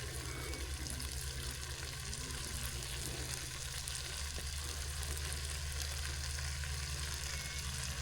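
Tomato puree sizzles and fries steadily in a curry pan over a Trangia camping stove, a continuous close hiss with faint stirring, and no talking.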